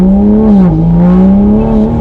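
A 2020 Toyota A90 Supra engine revs loud and close under hard acceleration, a steady droning tone that dips briefly and then climbs again as the throttle stays open, with no talking.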